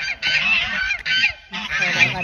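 Geese honk in three loud, harsh bursts close by, separated by short pauses.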